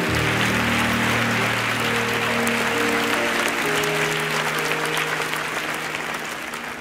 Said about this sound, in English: give God a good hand clap offering